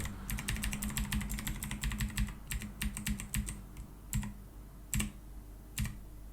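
OKER K545 mechanical keyboard keys clatter close up, first in quick rapid bursts of typing, then slowing to a few separate, spaced-out presses.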